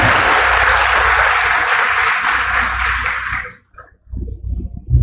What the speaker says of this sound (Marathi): टीमसाठी सर्वांतर्फे जोरदार टाळ्या